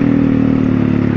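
A Honda NX 200 motorcycle accelerates on a dirt trail, its engine a steady, loud, close drone with a strong low harmonic hum throughout the short burst.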